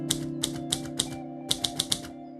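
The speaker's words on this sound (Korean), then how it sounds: "영화는 브라이오니가 타자기를 두드리는 소리와 함께 시작됩니다." A typewriter is struck in crisp, sharp key clacks, four evenly spaced hits and then a quicker burst of four, over a faint sustained musical hum at the opening of a film. There is no speech.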